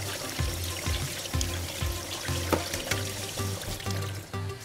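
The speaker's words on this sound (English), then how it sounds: "you want to give it a really good rinse for about a minute." Steady running water pours and splashes over cooked tapioca boba pearls being rinsed in a kitchen, close and continuous with some irregular gurgling, and no talking.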